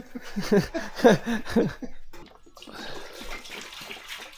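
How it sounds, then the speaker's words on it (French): Water splashing and gushing on a work site as a tank fills under vacuum, a short burst of splashy sloshing followed by a softer, steady rush of flowing water. "Ça a un peu éclaboussé, Kader."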